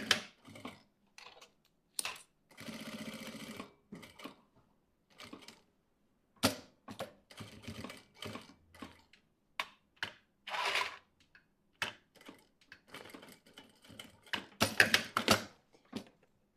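A sewing machine stitches a fabric toiletry bag with a zipper in short bursts of rapid whirring, separated by quiet pauses filled with clicks and fabric handling.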